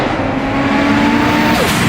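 A 2026 Audi RS3 Competition Limited with its turbocharged five-cylinder engine, loud and close, holding a steady raspy drone with a slight rising pitch toward the end.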